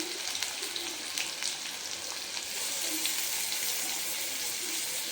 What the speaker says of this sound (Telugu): ఆయిల్ వేడయ్యాక కట్ చేసి పెట్టుకున్నటువంటి ఒక ఆనియన్ వేసుకుందాం.